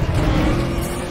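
A Toyota Supra engine in the racing game NFS The Run roars in a short, loud, close burst of revving with dense low rumble and no pause.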